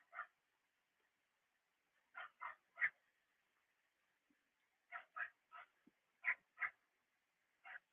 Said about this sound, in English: Damn little dogs.